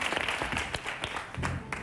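A television studio audience claps at a Spanish copla music show, a dense, steady burst of applause from many hands filling the short moment.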